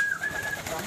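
A racing pigeon returning to its loft after a race from Vigan gives a single brief, soft coo, close by, with a faint thin tone in the background.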